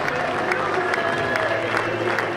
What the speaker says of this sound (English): the crowd are on their feet here, applauding the young man